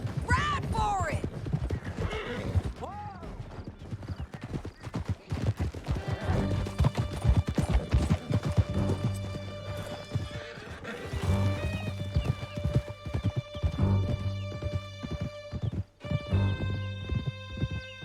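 Horses gallop with steady clip-clop hoofbeats and neigh in Red Dead Redemption 2, loud and close, with music swelling underneath and voices speaking over the ride.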